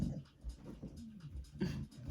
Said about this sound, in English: It's my dog, baby.